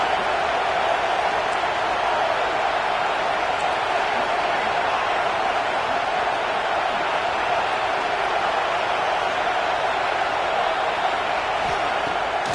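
Stadium crowd in the video game College Football 26 roars in a steady, dense wash of cheering and noise on a Gators third down, sustained and loud throughout without breaks.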